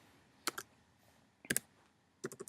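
Keystrokes on a computer keyboard while entering text with the vertical type tool in Photoshop Elements: three short, crisp clusters of clicks about a second apart, moderately close and heard alone.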